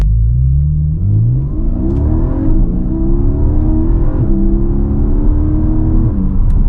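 A 2024 Porsche Cayman GTS 4.0 engine pulling hard under acceleration, loud and close from inside the car, its pitch climbing through rising sweeps with brief dips at gear changes, steady throughout with no talk.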